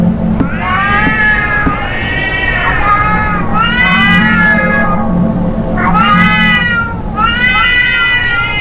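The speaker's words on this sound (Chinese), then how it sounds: "猫咪，不要那么凶。" A cat meows aggressively in repeated drawn-out, wailing yowls, five loud caterwauls close by over a low steady background hum, with no talking.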